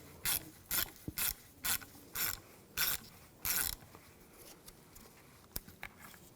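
A ratchet on a 5mm hex socket works a bracket screw loose on a 2004-2009 Audi A4 Quattro 2.0L, seven crisp bursts of clicking in steady rhythm, close and loud, then a few faint ticks and taps with no talk.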